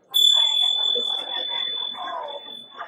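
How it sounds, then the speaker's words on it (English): A zill finger cymbal is dinged once, giving a bright, piercing high ring that holds steady for a few seconds while a person talks over it. "when you ding a Zill, Mhm. it makes a certain sound"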